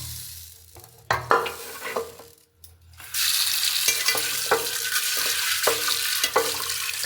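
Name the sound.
washing mixed lentils and pulses in water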